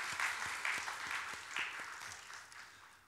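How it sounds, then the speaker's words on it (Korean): Congregation applause in a church service, a dense, even wash of many hands clapping together at moderate distance, holding steady before gradually tapering off toward the end. "우리 감사하다고 박수하겠습니다."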